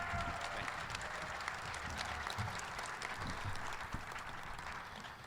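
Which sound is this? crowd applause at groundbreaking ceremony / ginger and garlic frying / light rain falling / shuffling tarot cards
crowd applause at groundbreaking ceremony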